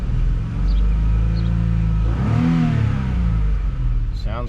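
A 2002 Volkswagen VR6 Eurovan engine revs up close by, a loud rumbling drone rising in pitch mid-way then settling back, with a brief clatter at the end.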